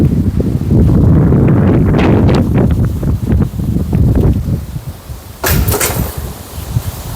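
Strong wind in a village buffets the microphone in heavy, uneven gusts, with a sharp rustling burst near the end as a bicycle blows over.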